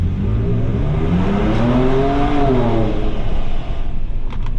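A Ford Ranger Raptor engine revs hard inside a tunnel, a loud, echoing roar that climbs and sweeps in pitch as the truck accelerates, heard from within the cabin with the window open.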